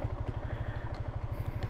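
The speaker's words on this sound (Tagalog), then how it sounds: "kalmado lang yung makina." A motorcycle engine idling calmly on 91-octane fuel, a steady low, even putter throughout, close and unbroken, with no talk over it.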